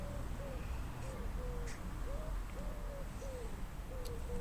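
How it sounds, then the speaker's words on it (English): Soft, repeated cooing calls from pigeons, steady and evenly spaced, heard faintly at a distance over a constant background hiss. "Listen to the pigeons."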